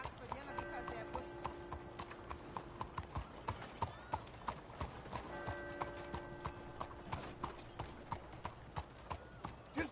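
Horse hooves clip-clop in a steady, close, rhythmic beat while a rider travels along, with voices talking over the hoofbeats.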